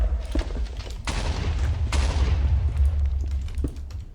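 Deep, rumbling explosions in a modded Minecraft base echo with sharp cracks over a steady low boom, loud and continuous with no speech.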